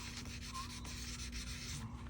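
A dented car body panel is sanded by hand with 1000 grit sandpaper. Rubbing strokes come as a steady, soft, close scratching rasp, with no voices.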